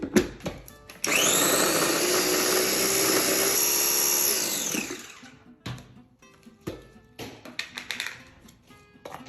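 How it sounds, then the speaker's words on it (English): A Ninja food processor chops red onions, a loud steady whirring blade drone running for about four seconds, then stopping, followed by quieter clicks and knocks of the bowl. "So I'm gonna put it into my Ninja processor here."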